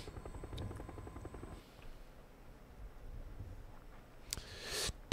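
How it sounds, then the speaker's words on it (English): Chinook helicopter in the video game PUBG, a low steady rotor drone with a light whir, fairly loud and continuous at first, then easing off, with sharp hiss bursts near the end. "We're in a Chinook."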